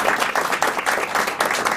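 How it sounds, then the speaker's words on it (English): An audience at a PRSA-NY public relations event gives a round of applause, a loud, dense burst of clapping that carries on continuously from start to finish. "Round of applause for Davison Gilbert for doing this."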